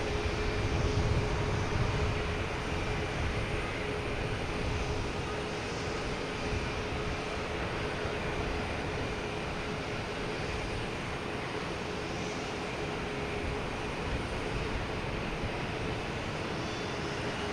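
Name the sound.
American Airlines Airbus A321neo arriving from Philadelphia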